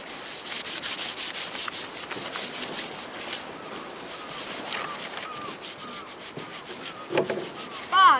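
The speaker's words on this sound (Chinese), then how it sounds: "你要打砂纸吗？ 要打，你打了才能刷上新油啊。" Sandpaper rubs back and forth over old oiled wood in quick repeated strokes, close and fairly loud, with a few brief scrapes and knocks toward the end.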